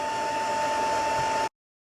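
A heat gun runs steadily at close range while being cleaned off during an eggshell craft project, giving a constant airy whoosh with a fixed whine, then cutting off abruptly partway through.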